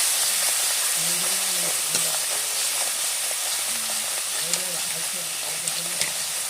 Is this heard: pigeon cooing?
no